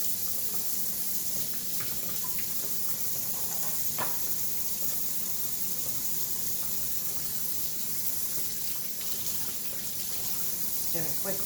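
A kitchen tap runs steadily for a quick rinse, a continuous hissing water stream that fills the whole stretch at even loudness, with faint clinks and a quiet voice underneath.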